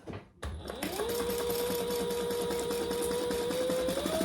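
A sewing machine starts up and runs fast and steady, stitching the lining of a beginner's bag with a close, continuous whirring hum after a brief pause at the start.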